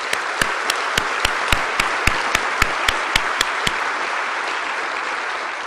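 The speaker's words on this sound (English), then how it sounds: "I think we need to give the Chamber staff a big round of applause for that one." An audience at the Fort Worth Chamber annual event applauds the Chamber staff, steady full applause with a few sharp individual claps standing out at regular intervals.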